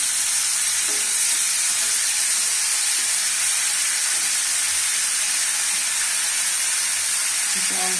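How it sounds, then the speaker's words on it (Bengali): Potatoes sautéing in a pan: a loud, continuous close-up sizzle and frying hiss, with faint stirring scrapes now and then. "আলুকে ভালো করে কষতে নিয়ে অল্প"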